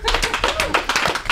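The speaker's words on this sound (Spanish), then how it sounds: "Bueno, pues hasta aquí, un aplauso." Live studio audience applause on a Spanish radio comedy show, a short burst of dense clapping with voices mixed in throughout.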